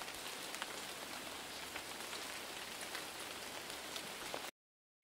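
Steady rain falls and patters on a surface, a dense even hiss with scattered drop taps that runs unbroken for about four and a half seconds before cutting to silence.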